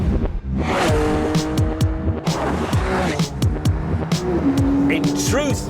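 A Singer-modified Porsche 911 with an upgraded 3.8-litre flat-six and lightweight aluminium body drives past and accelerates, its engine rising and falling in pitch, with tyre noise and a voice speaking over it.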